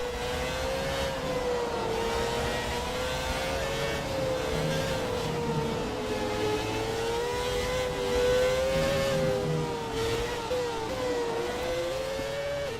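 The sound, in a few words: Formula 1 car engine revving, video game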